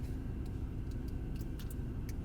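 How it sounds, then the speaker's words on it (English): A tow truck rolls along a muddy road near a campsite, a steady low engine rumble and tyre roar holding close and even throughout, with a few faint higher clicks over the top. "I blink and a tow truck is coming down the road"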